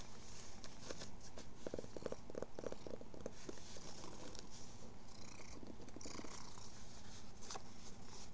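A cat purrs close up in a steady, grainy rumble that runs the whole time, with faint soft patter over it and no voices.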